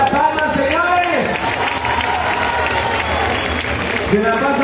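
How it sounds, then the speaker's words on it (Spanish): Audience applause for the women dancers during a live cumbia show at a fair: steady, dense clapping over band music, with a voice talking through it. "Fuerte el aplauso para esas mujeres"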